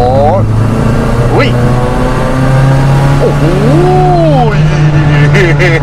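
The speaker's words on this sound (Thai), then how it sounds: "เกียร์สามนะขอลองอัตราเร่งดูหน่อย" A supercharged 1990s VW Corrado G60 accelerates hard in third gear, its engine note climbing and sweeping up through the revs, loud and close inside the car, while a man exclaims over it.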